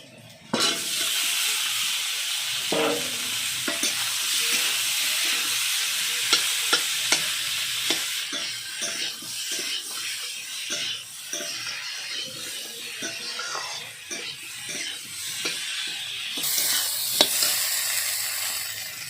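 Green chilies and potatoes fry in a hot pan, with a loud, continuous sizzle and repeated rhythmic scraping and clinking of a spatula stirring throughout.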